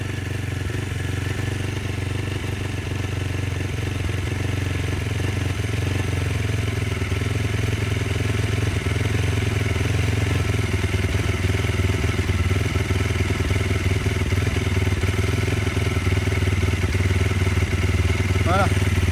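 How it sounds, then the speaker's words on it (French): A new Varetti VR 150cc motorcycle engine idles after its first start, a steady, close mechanical putter with a constant low hum and light clatter throughout, while someone talks in French over it. "On la laisse tourner pour faire chauffer l'huile."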